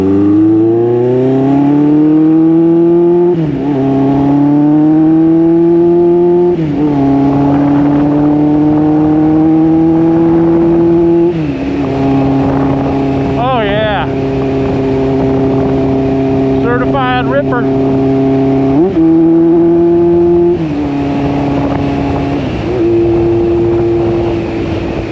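A rebuilt-carburetor 1986 Honda CB1000 Custom motorcycle engine idles and revs steadily close by, its pitch stepping up and down between sustained levels, with a brief whine or squeal mixed in.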